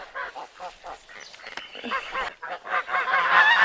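A flock of geese honking repeatedly in loud, overlapping calls that build in intensity, fairly close and continuous throughout.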